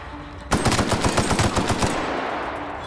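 Assault rifle gunfire in The Outer Worlds video game: a sudden, loud, rapid automatic burst of about a dozen close shots that tails off into a reverberant decay, with no talking.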